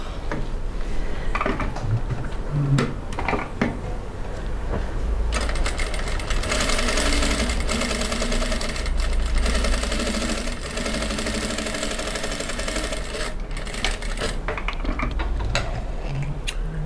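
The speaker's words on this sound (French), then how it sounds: "Faire un petit ourlet que je vais coudre." A domestic sewing machine stitches a small hem on fabric, its motor whirring in steady bursts with a fast mechanical needle chatter, close and loud, with short pauses between runs and faint handling clatter.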